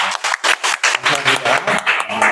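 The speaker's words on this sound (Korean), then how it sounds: "격려의 감사의 박수를 한번 드렸으면 좋겠습니다" A church congregation claps for the youth and teachers, rhythmic, evenly spaced claps in unison, steady and close, with faint voices underneath.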